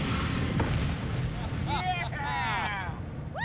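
A deep, loud explosion from a Mythbusters test rumbles through the whole stretch with wind-like roar, while people whoop and cheer over it in the second half.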